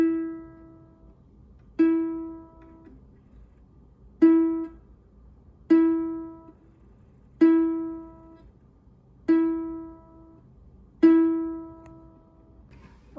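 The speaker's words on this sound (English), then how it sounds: "just do the third string, which is E, and it should sound like this." A ukulele's third string, E, plucked seven times in a steady slow rhythm, each clear note sustaining and decaying before the next, with no voices.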